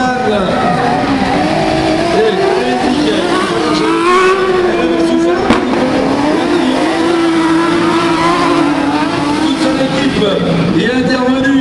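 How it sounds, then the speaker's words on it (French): A Nissan-engined Renault Clio racing in an autocross heat, its engine loud and close, revving up and down through gear changes with rising and falling pitch, while a commentator talks over it. "Cette Clio moteur Nissan."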